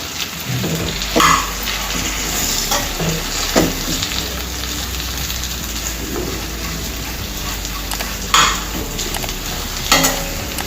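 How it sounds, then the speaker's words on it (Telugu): Stuffed eggplant masala curry sizzles steadily in a pan while a spoon stirs, with occasional scraping clanks against the metal. "ఇదంతా ఒకసారి ఇలా కలిపేసుకోవాలండి."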